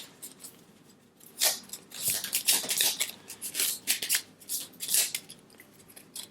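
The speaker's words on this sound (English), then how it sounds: "All right, I'm gonna shuffle like a big girl." Someone shuffles the demon lords card deck for the Sanctum board game by hand, giving a run of quick crisp riffling and rustling bursts close to the mic with short pauses between them and no talk over it.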